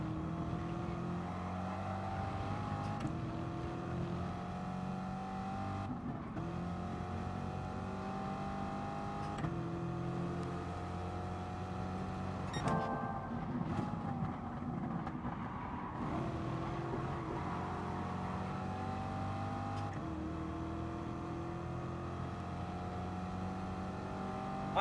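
Race car engines rev and accelerate in Gran Turismo Sport, a BMW among them on track, with loud sustained engine drone climbing in pitch through repeated gear shifts, no voices.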